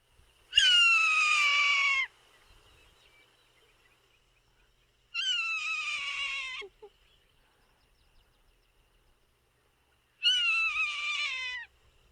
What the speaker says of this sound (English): That's the pretty typical call of a Swainson's hawk.